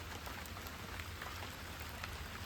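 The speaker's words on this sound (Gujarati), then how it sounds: "અહીં પણ એક રેડું આવ્યું." Steady rain shower falling outdoors during a morning downpour, a dense even hiss of drops on surfaces, continuous and fairly loud with no voices.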